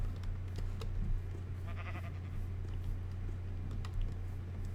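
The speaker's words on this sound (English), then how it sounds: "Oh look, a sheep. Come here, sheep." A sheep bleats in the Minecraft video game, a short wavering call near the middle, over steady background hum and light keyboard-like tapping.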